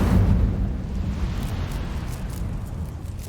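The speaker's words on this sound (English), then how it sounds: "Incendio." An Incendio fire spell cast in the video game Hogwarts Legacy gives a loud, rumbling whoosh of flame that surges at the start and then roars steadily for a few seconds before easing slightly.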